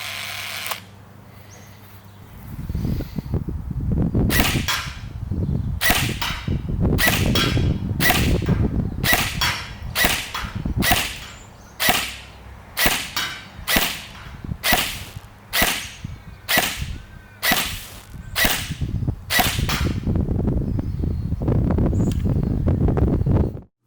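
An XYL ARP9 gel ball blaster fires Alpha King gels in a velocity test, about seventeen sharp, loud snapping shots at a fairly steady pace between stretches of motor whir.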